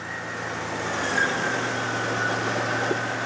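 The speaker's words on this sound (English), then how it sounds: "now it's going into a nice soft idle" A car engine idles steadily while powering an inverter, a smooth continuous low hum with a faint higher whine, close and unbroken for a few seconds.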